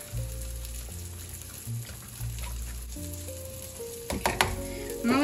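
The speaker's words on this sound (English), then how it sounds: "Stir that in." American cheese is stirred into a sizzling pan, giving a soft, continuous frying hiss with a few louder stirring scrapes near the end and a faint steady tonal hum underneath.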